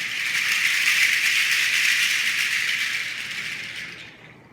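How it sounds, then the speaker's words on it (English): Large seed pods from Mali used as a shaker rattle, a loud continuous dry hissing rattle held steadily close up, tapering off near the end with a final short shake. "These seed pods came from Mali, and they can be louder, and because they're larger,"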